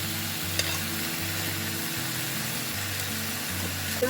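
Green chillies hit a hot pan of frying cow brain, and a steady, dense sizzle runs throughout beneath a faint low hum, with an occasional small clink.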